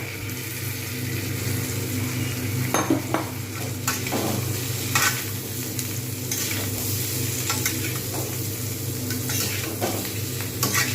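Cauliflower and flat beans fry in spiced oil for a Bengali vegetable curry, giving a steady close sizzle with repeated scraping and stirring knocks from a utensil in the pan.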